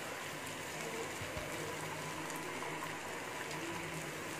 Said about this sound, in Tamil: இப்போ அதெல்லாம் நம்ம ரெடி பண்ணி வச்ச ஸ்மைலிஸ் போட்டு எடுத்துக்கோங்க